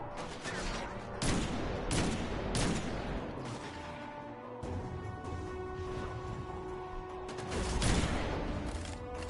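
Rapid bursts of gunfire from Destiny 2 rattle in repeated volleys across the whole stretch, loud and close, with heavier clusters of shots near the start and end.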